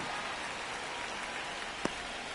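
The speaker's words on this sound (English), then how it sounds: "It feels like we might be headed towards a rain delay if the weather doesn't ease up, Chris." Rain falls steadily during a St. Louis Cardinals versus New York Yankees baseball game, a dense, even hiss with one brief sharp tap near the end.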